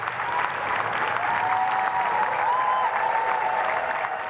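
Rapturous crowds cheer and applaud as the new Prime Minister and his wife arrive, a dense, continuous roar of clapping with a whistle or shout rising above it.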